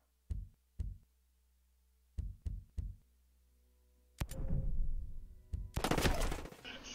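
Gunfire in the video game Ghost Recon Breakpoint: several sharp, separate shots, then a loud, longer burst of rapid automatic fire ringing out, with a few more shots after it.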